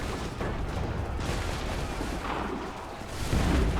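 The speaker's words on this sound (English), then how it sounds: "Take cover! They're firing!" Enemy musket gunfire in the battle scene of Assassin's Creed 3: a dense, continuous roar of overlapping shots and booms, loud and constant throughout, swelling slightly near the end.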